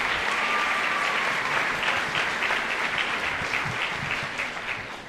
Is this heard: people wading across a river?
no